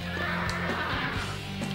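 Horse neighing in the video game Dynasty Warriors 5, a loud whinny set over steady battlefield game sound for under two seconds, with no speech.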